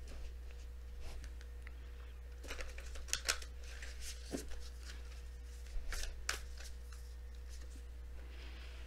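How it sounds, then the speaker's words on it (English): Quiet, close shuffling of tarot cards: a series of soft riffles and taps coming in irregular bursts over a low steady hum, with no talking. "One more shuffle."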